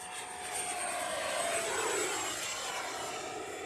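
An E-flite F-16 Falcon 80mm electric ducted-fan RC jet model flies by under a cloudy sky, a steady loud whooshing whine holding at even strength throughout.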